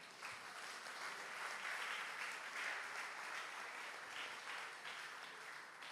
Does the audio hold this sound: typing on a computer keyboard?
no